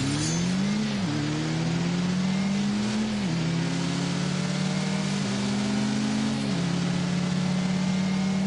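A 2-litre turbo car accelerates from a race start in The Grand Tour video game. The engine roars loud and steady throughout, climbing in pitch with three distinct gear-change drops, alone without talk.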